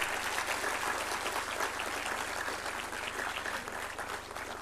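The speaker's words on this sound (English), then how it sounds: "Let's give all of them a big round of applause." Quiet, steady applause from an audience at a medical college foundation day and convocation ceremony, a soft continuous patter of many hands heard from a distance over a low hum.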